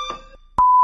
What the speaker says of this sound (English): We're back after the fire alarm goes off.